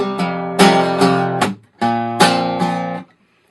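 Electric guitar playing a short rhythmic strummed figure from a live song, with a muted thunk before chords: two sustained chord phrases, each with several strong strums, separated by a brief gap, close and fairly loud with no voice.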